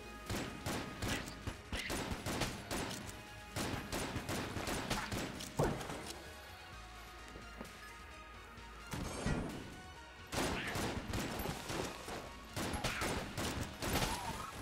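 Dense volleys of video game gunfire in Enter the Gungeon as a shot grub enemy fills the room with bullets, rapid overlapping shots and crashing impacts in bursts, with brief lulls between flurries.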